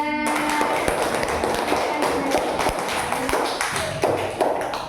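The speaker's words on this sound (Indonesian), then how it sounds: "tepuk tangan untuk kelompok 2" Classmates clap for group 2 after its presentation during a teaching-practice lesson, dense overlapping claps and taps running steadily for several seconds, with a brief voice at the start.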